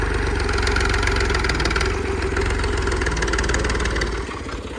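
A tractor engine idles steadily up close on rough farm ground, a loud continuous low rumble and chug that holds even and drops slightly near the end, with no voices.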